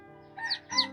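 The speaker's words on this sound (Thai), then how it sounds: "น้องมีนาเลี้ยงไก่อยู่" A backyard chicken gives two short, faint squawking calls over a steady low hum.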